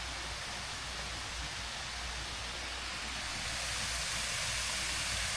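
Water pours steadily down Natural Falls in Oklahoma, a dense constant roar heard close by, with no break or change.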